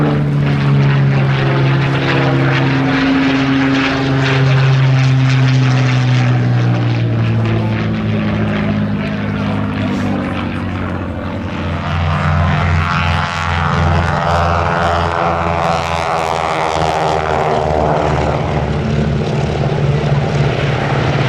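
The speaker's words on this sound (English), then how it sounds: "the Spitfire display coming up." A Supermarine Spitfire flies a display at the East Kirkby airshow. Its loud, sustained propeller-engine roar swells and shifts in pitch as it passes close by, and nobody speaks.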